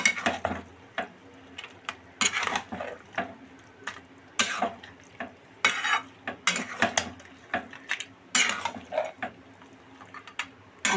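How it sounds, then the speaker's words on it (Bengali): Kochu shak cooked with a rohu fish head is stirred in a pan, giving intermittent scraping and clattering strokes in irregular bursts with quiet gaps between them. "নেড়ে দিই।"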